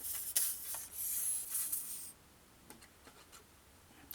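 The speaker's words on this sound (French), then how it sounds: "on va mettre une ligne de colle à tissu au centre" A line of fabric glue laid down on a scrapbook page, heard as a close, soft hiss and scraping rub in two brief strokes, followed by faint light taps and handling in near quiet.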